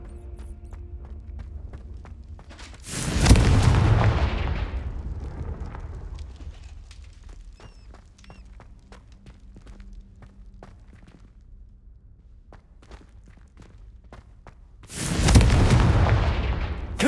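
Two loud explosive blasts from the Confringo fire spell in Hogwarts Legacy, several seconds apart, each a broadband boom with a rumbling tail, separated by quiet ambient game sound and light footsteps.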